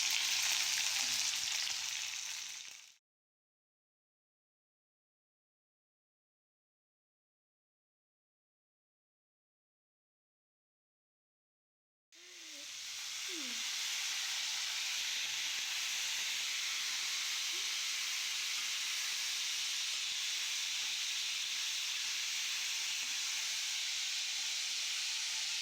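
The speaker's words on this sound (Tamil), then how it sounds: "ஒரே ஒரு மிளகாய் போட்டு வதங்கினதும் சுண்டைக்காய் போட்டுக்கலாம்." Chilli and turkey berries fry in oil in a pan with a loud, steady sizzle and hiss, cut off by several seconds of silence before the sizzling resumes and continues strongly.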